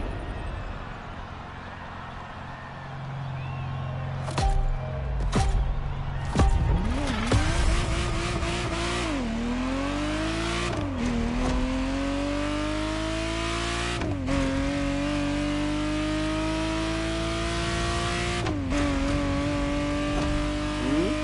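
A Ferrari Testarossa in The Crew Motorfest racing game, its engine revving loudly and rising through the gears, with sharp tire squeals and skids breaking up the steady drone throughout.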